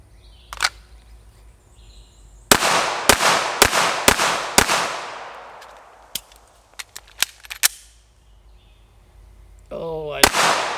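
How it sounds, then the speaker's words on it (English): A Canik SFx Rival pistol fires a rapid string of sharp shots, loud and close at an outdoor range. A pause and scattered clacks follow, then a reload and another burst starting near the end. "I'm gonna try to shoot as fast as I can, 5 rounds reload,"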